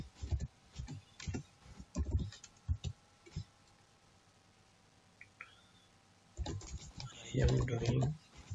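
Computer keyboard typing while writing a line of SAP ABAP code in an editor, bursts of quick clicky keystrokes separated by pauses, fairly close and moderately loud.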